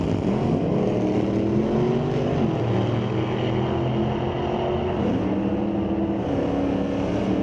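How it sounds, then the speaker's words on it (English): Drag race cars at Mission Raceway, including a 1970 Camaro with a 632 engine, roaring steadily at full throttle, loud and sustained with pitch shifts as gears change. "1970 Camaro, powered by a 632."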